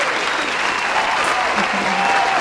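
A round of applause follows a magic trick: a brief, dense burst of many people clapping, fairly loud and steady throughout.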